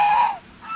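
A single goose gives one short, nasal honk up close, fading fast with a faint second call at the end.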